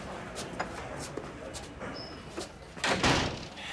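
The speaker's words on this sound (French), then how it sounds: "Fermez-moi cette porte." A door is shut in a film scene: several scrapes and knocks, then a louder slide and bang near the end, with some background noise.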